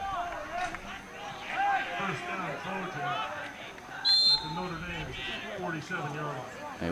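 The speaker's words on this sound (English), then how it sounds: "They whistle, and they take a look." Short referee whistle blast at a high school football game between Notre Dame-Fairfield and Weston, cutting through steady crowd and stadium noise along with commentary talk.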